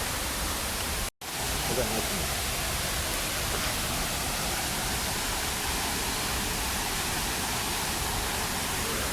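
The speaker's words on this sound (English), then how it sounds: "What a wonderful view of the waterfall" Wayangani waterfall near Vengurla roars as a steady, full broadband wash of falling water, close and continuous, broken only by a momentary dropout near the start.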